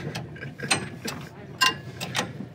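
A ratchet wrench tightening a bolt gives quick, close clicking bursts in an uneven rhythm, each short run of ratchet clicks separated by brief pauses.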